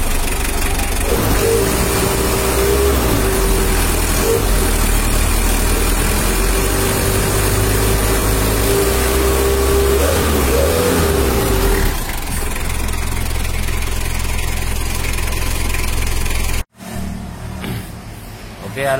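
A Mitsubishi L300 diesel engine at a pump service shop runs loudly with a rough low rumble and a rattling idle, then cuts off abruptly near the end, leaving quieter workshop background.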